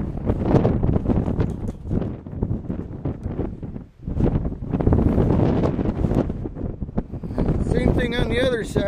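Strong wind in the Mojave Desert hammering the microphone in loud, continuous rumbling gusts with a brief lull midway, and a faint tonal whine near the end.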